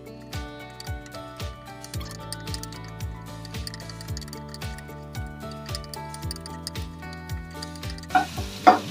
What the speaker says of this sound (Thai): เราใส่น้ำมันเพื่อที่จะผัดรากผักชีกระเทียมพริกไทยนะคะ